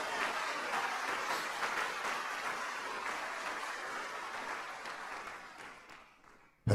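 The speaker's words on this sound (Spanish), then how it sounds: "dele ese aplauso al Señor" A church congregation applauds steadily for several seconds during a sermon, then the clapping thins out and fades toward the end.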